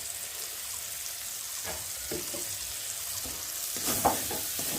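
Muri ghonto fries in a pan as chili powder is stirred in, giving a soft, continuous sizzle broken by light scraping strokes and a sharper clatter near the end.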